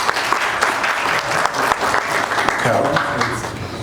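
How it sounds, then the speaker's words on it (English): A lecture audience applauds after a talk on Xhosa propaganda in World War II, a dense steady wash of many hands clapping at moderate loudness throughout, with a faint voice briefly audible near the end. "I think that deserves a round of applause."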